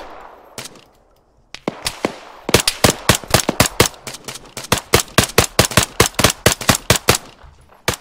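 Rifle fire in the ARMA 3 video game during a co-op urban firefight in Zargabad: a few isolated sharp cracks, then a long run of rapid, loud shots in quick bursts, close and punchy, with no talk over them.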